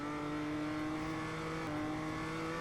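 A race car's engine drones steadily at Nordschleife in the iRacing simulator, a continuous buzzing roar held at a fairly even pitch, fairly quiet with no talking.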